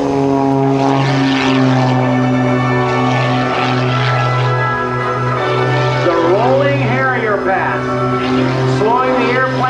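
The Embry-Riddle Eagle 580 aerobatic airplane drones loudly and steadily overhead at an air show, its propeller engine humming with strong harmonics that bend in pitch as it maneuvers, while an announcer talks over it.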